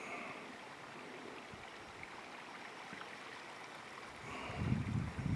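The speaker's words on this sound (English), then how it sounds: "do you hear the water?" Water flowing in a stream at Jones Pass near Osgood Pond, a faint steady rushing wash that grows slightly louder and rumblier toward the end, with no voices.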